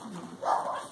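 A puppy gives a single short, high bark close by, rising out of a quieter whimpering sound.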